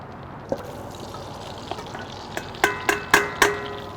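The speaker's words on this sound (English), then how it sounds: "as soon as this is melted, we can get our mushrooms and our onions cooking down" Mushrooms and onions start cooking in melted butter in a Dutch oven with a soft background sizzle, then a few sharp metallic clinks and taps from stirring, close and fairly quiet.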